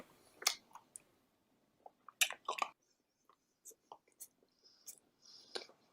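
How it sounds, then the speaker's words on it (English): Someone eats a bacon sandwich up close, with wet slurping, smacking and crunchy chewing bites in irregular bursts separated by short quiet gaps. "why do you gotta slurp?"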